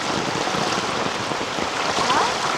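Rainwater rushing fast through Konkan paddy fields during a heavy monsoon, a continuous close, churning gush of flowing water with no voices.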